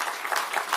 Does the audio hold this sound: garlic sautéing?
no